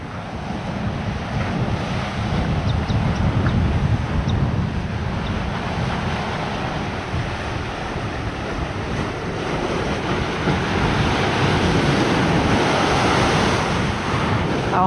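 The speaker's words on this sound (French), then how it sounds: "Alors on a le beau spectacle des vagues par là" Sea waves crash against the hard rock of Venezuela's northern point, a continuous roaring surf with heavy wind buffeting the microphone, loud and steady throughout.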